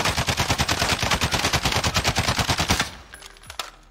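An FN Scar 17 rifle in Warzone fires a loud, steady full-auto stream of evenly spaced rapid shots for nearly three seconds, then stops abruptly, leaving faint clicks and quiet.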